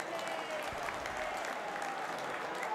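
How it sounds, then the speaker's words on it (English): A football stadium crowd at an Oxford United versus Swansea City match lets out a steady, distant wash of murmuring, clapping and drawn-out whoos and ahs, a continuous roar with no single voice standing out. "A couple of whoos and ahs from the crowd."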